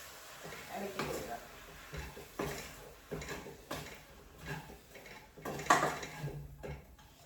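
Chicken curry is stirred in a pot with a spoon, producing intermittent scraping and metallic clinks at an irregular rhythm, close and fairly quiet.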